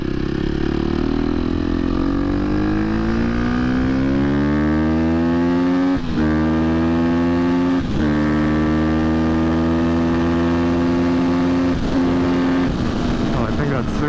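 A 2023 KTM 250 XC-F dirt bike rides on the street, its engine droning loud and close with rising revs and a few sharp gear-shift dips, steady throughout.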